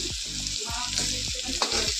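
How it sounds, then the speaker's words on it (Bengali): Teasel gourd (kakrol) slices frying in a pan: a steady, close sizzle of hot oil carries throughout, broken by a few soft stirring scrapes and clinks. "আমি কাঁকরোলটা ভাজাও বসিয়ে দিয়েছি"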